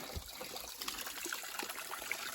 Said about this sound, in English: There's the water coming down from the rock.